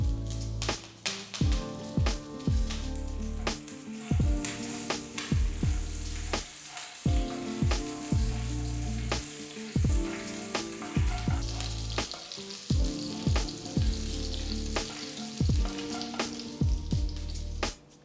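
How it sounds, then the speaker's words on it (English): Mustard seeds and curry leaves sizzle in hot oil with asafoetida, a loud crackling fry broken by sharp popping bursts and rhythmic stirring clatter, with no voices over it. "Once the mustard seeds start splattering,"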